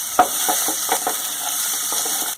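Pumpkin and potato chunks sizzle steadily in hot oil in a wok, with an even frying hiss throughout and a few soft scraping clinks of a spatula as the vegetables are stirred.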